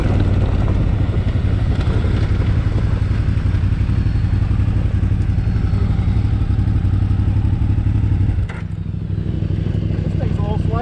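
Triumph Scrambler 1200 XE motorcycle ridden off-road: a loud, steady engine drone with clattering and wind buffeting throughout, and a brief dip near the end, under occasional talk.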